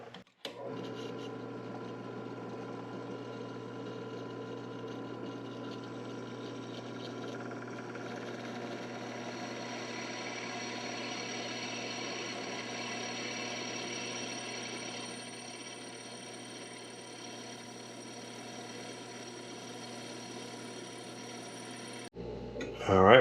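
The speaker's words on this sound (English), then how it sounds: "we're going to drill these two outside holes at 6 millimeters each" Steady whir and grind of a drill boring 6 mm holes in a metal tool post for a mini lathe, close and continuous for over twenty seconds, easing slightly toward the end before stopping.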